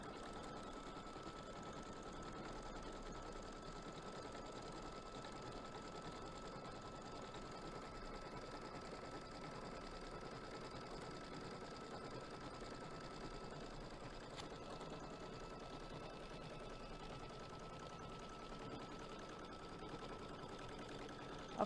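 A sewing machine quilts a quilt with dark navy thread, running in a steady continuous whir close by for the whole stretch with no talking over it.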